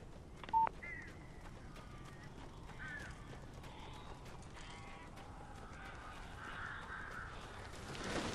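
Crows caw in the video game Alan Wake, several harsh calls spread across a dim, steady background ambience, with a short tonal beep near the start.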